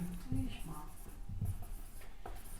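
Writing on a board in a math classroom, short scratchy strokes running beneath a teacher's continuous speaking voice, close and moderately quiet.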